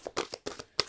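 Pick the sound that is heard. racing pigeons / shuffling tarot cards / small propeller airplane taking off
shuffling tarot cards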